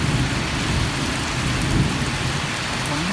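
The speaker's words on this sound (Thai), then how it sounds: "ผมพามาดูบรรยากาศฝนตกนะครับ" Heavy rain pours steadily around a farm in Thailand, a dense, loud hiss of drops on surfaces with a low rumble of thunder underneath. No one speaks.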